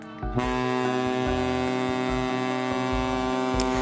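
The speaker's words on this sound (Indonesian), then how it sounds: "Terdengar suara klakson panjang, tanda kapal berangkat." A ship's horn sounds one long, deep, sustained blast after a brief moment of quiet and holds steady to the end.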